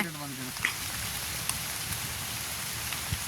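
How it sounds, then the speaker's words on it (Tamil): Rain falling outdoors as a continuous even hiss of drops, with a brief voice at the very start and faint scattered knocks underneath. "டப்புன்னு மழை வந்துட்டு"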